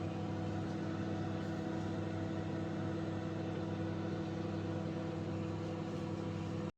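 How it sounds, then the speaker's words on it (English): A microwave oven hums steadily while heating a food mixture, a continuous loud even drone with no talk, ending abruptly as it shuts off. "So I'm microwaving some mixture for a couple of minutes just until it gets a nice piping hot."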